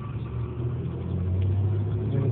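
A bus drives by on the road, its engine a steady low rumble that swells as it draws nearer, heard without talk.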